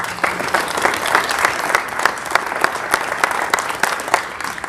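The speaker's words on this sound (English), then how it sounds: "Let's give this group a round of applause." An audience at a freshman ceremony gives a group of students a round of applause, a dense, even wash of many hands clapping that holds steady throughout.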